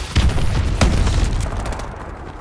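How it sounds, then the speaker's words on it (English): Missile strikes land in Call of Duty Advanced Warfare multiplayer, three heavy booming explosions in quick succession, loud and near, each trailing into a rumbling decay. "Friendly missile strikes inbound"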